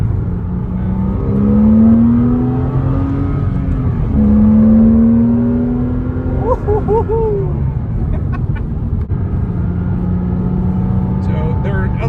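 A Porsche 987 Cayman S engine hums and revs up twice, rising in pitch, close by with a steady mechanical drone and some faint chirps.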